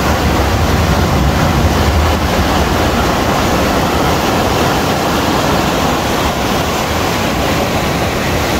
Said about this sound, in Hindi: इस तरह इतनी स्पीड से पानी देखो यहाँ आके गिरता है